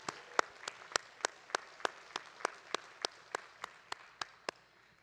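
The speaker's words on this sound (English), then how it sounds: "How about another round of applause for Ricardo?" Faint, sparse clapping at a law college commencement, about fifteen separate claps in a fairly steady rhythm with no voices over them, more like a single pair of hands than a full crowd.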